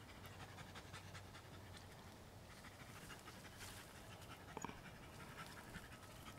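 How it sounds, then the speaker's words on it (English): A dog pants quietly somewhere in a sunny garden, a soft, fast, steady breathing rhythm heard faintly behind low outdoor ambience. "You love the dog panting in the background."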